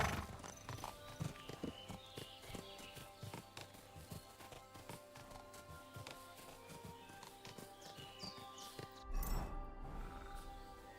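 Horse hooves clip-clop steadily in Kingdom Come: Deliverance II, a quiet, continuous patter of hoofbeats under a busy ambient background, with a brief louder shuffle near the end.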